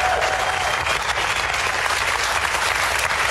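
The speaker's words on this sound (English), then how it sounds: "Give him a round of applause, ladies and gentlemen." Loud, dense TV studio audience applause on a daytime talk show, a steady wash of many hands clapping at once that holds constant throughout.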